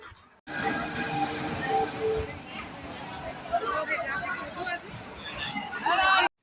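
A Porbandar-bound passenger train arriving late at a station, a steady rumble of wheels on track with faint squeals and a murmuring crowd around it, fairly distant and moderate in level.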